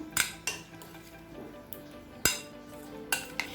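Cauliflower florets are stirred into batter in a bowl for Gobi Manchurian, with sharp metallic clinks of a spoon against the bowl at irregular intervals over quiet wet mixing.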